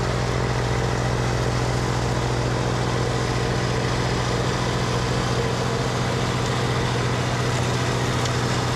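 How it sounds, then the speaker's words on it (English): A snowblower engine runs continuously through sticky, slushy snow during a big snowstorm, a loud, steady mid-pitched motor drone that holds without pause. "This thing, the snowblower right here, guys. Sticky snow, crazy snow, slush. Nothing stops it."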